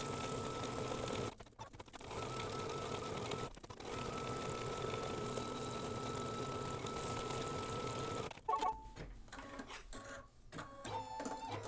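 An embroidery machine stitching an outline around a mug rug whirs and clatters in a steady mechanical rhythm, broken by a few brief pauses and a stretch of uneven, stop-start stitching near the end.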